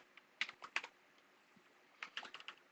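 Typing on a computer keyboard: two short bursts of quick, close key clicks separated by a pause, faint and alone.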